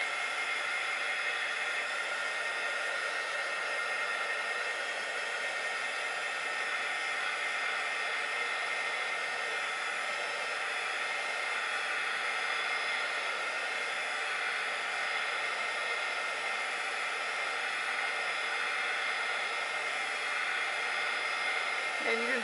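A hair dryer blows steadily on modeling paste, giving a continuous, even whooshing whir that runs unbroken for the whole stretch at moderate loudness.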